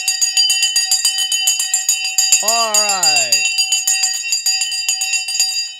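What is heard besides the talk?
stock market opening bell ringing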